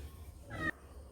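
A pet cat called Karampoos gives a single short meow, close by and fairly loud, over a quiet room background.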